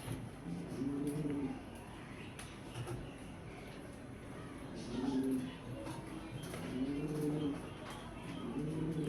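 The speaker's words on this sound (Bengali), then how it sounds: "আমার এখানে আমি 4-5টা কবুতর স্টকে রাখছি।" Several pigeons coo in a coop where birds are kept and laying eggs, the soft rolling calls repeating in bouts against steady low background noise.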